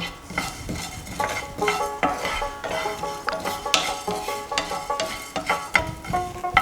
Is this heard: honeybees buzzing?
no